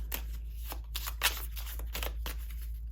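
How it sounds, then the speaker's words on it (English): Soft papery riffling of tarot cards being shuffled hand over hand, in a series of quick repeated bursts, close and quiet. "we'll give these guys, I guess, a little hand-over-hand shuffle"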